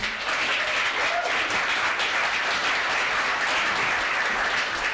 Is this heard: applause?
yes